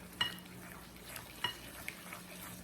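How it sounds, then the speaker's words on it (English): A whisk stirs sugar into melted butter for sugar cookie dough, a soft, quiet swishing with a couple of light metallic clinks against the bowl. "I'm using a whisk for this because it's just the easiest way to do it"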